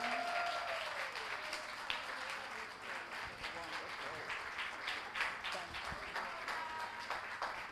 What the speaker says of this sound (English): Give her a bigger round of applause than that.